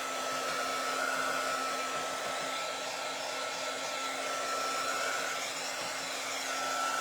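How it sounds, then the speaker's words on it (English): A hair dryer blows on a glitter-covered hat, a steady, loud, close whooshing roar with a constant whine that holds for the whole stretch and has no talking over it. "We're going to dry his hat."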